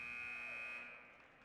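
A basketball game buzzer at a girls' varsity high school game, one sustained loud electronic tone that fades out after about a second.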